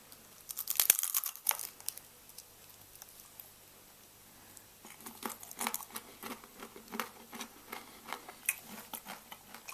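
A dry, salted, dehydrated edible insect is crunched up close. A loud crackle comes near the start, followed by quieter, irregular crisp crunches and crinkles, with no talking.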